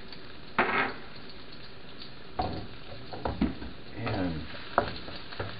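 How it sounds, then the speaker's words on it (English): Curry and ginger sautéing in a pan, giving a steady soft sizzle broken by occasional scraping stirs and clinks of a utensil, fairly close and alone. "those are sauteing nicely."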